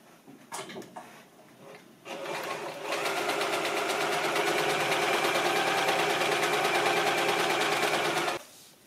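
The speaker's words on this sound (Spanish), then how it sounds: "una vez que ya hemos cosido todo el perímetro del bolsillo" A sewing machine stitches around the perimeter of a fabric pocket for a child's backpack, starting with a few clicks and short bursts before running in a fast, steady whir for several seconds, then stopping abruptly.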